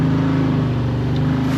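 A Can-Am Maverick Sport Max engine held at full throttle, a loud, steady, droning roar with a strong low hum and no pauses for the whole short stretch.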